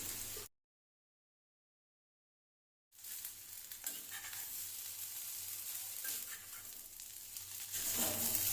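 Pasta with onion and vegetables being stirred in a pan over a low gas flame, giving a steady soft sizzle and scraping that follows a stretch of silence and continues evenly at moderate level without talk.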